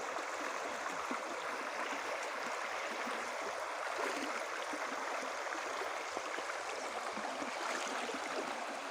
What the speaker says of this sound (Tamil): தண்ணி நல்லா ஃபோர்ஸாக வருது.